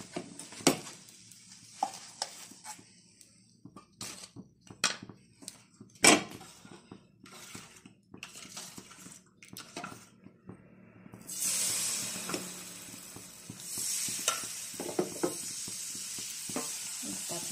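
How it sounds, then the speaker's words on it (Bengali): Spicy thin chakli pitha batter frying in a pan, with a soft sizzle broken by sharp clicks and scrapes of stirring, then a louder hiss swelling over the last seconds; no one speaks. "পরেরটা এইভাবে ভেজে দিতে হবে।"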